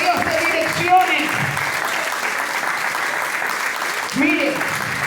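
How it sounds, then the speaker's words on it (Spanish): Church congregation applauding steadily through a worship service, a continuous wash of clapping with a voice rising over it twice. "Dele fuerte el aplauso al que vive."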